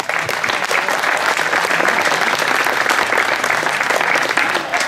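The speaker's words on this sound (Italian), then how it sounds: "Applauso." Spectators clap at a roadside slalom car race in Bagnara Calabra, a dense, continuous applause holding at a steady level from start to finish.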